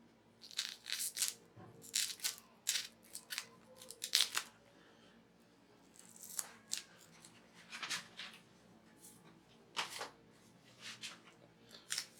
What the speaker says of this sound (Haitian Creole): Après ça, je coupe avec ciseau ça.